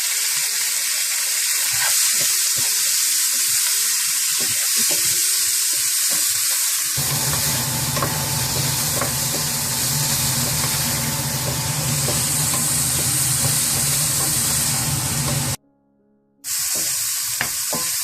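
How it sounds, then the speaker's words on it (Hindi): Chicken for shashlik fries with black pepper, ajinomoto and salt, giving a loud, continuous sizzle. Stirring clatters over it early on, the frying swells in the middle and then cuts out briefly. "काली मिर्च, अजीनोमोटो और थोड़ा सा नमक डालकर हल्का सा फ्राई कर लेना आपने"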